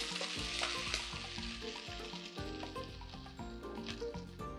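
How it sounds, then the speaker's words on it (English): Grilled bacon cubes sizzle steadily in a frying pan while being stirred, a loud continuous fry with scraping stir strokes, close up and without speech. "We'll add our bacon, which we had grilled earlier on, and then chopped into nice little cubes to give this a good stir"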